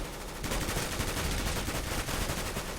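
Automatic weapon fire in the video game CS:GO rattles out as a rapid, continuous string of shots at moderate volume, following a short quiet opening.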